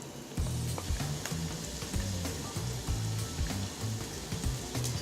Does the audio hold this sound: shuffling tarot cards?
no